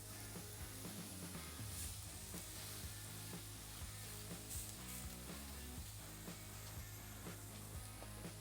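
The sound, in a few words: tri tip searing on PK grill grates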